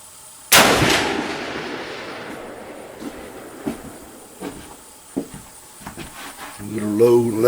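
A single loud mountain rifle shot fired at a target 100 yards away cracks sharply and booms into a long fading echo, followed by faint handling clicks and a voice speaking near the end.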